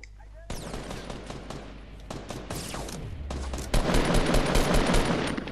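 Sustained automatic gunfire and rapid shots in the Fortnite video game, continuous and loud throughout, growing denser near the end, with a player talking over the shooting.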